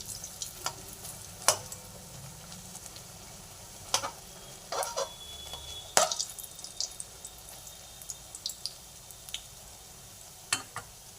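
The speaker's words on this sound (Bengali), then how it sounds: "এপিট ওপিট করে ভালোভাবে ভেজে নেব।" Bitter gourd leaf fritters fry in hot oil, a quiet steady sizzle broken by scattered sharp crackles, pops and a few utensil taps, heard close up with no talking.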